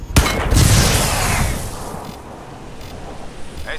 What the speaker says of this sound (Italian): Esplosione confermata.